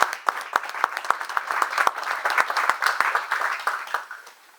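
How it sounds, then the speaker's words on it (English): Audience at a San Bernardino Masonic lodge officer installation applauds, with many hands clapping in a steady dense patter that fades toward the end. "I ask you also if she would stand and you give her a round of applause,"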